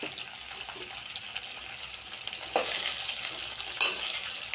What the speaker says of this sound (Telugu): ఆ తర్వాత బాగా మిక్స్ చేసుకోండి